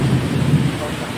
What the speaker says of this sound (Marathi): किती धुवाधार पाऊस आहे.